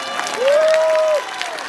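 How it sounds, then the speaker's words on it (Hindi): A church congregation claps together, a dense wash of applause with a sustained tone, likely feedback, sounding briefly over it. "ताली बजाते प्रभु के लिए"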